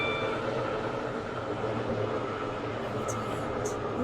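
A train rolls into a station in the railway game Stepford County Railway, giving a steady low rumble and hum of the carriages with a faint high whine, continuous and even throughout.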